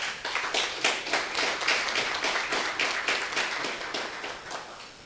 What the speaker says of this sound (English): I would allow for a round of applause for her, please.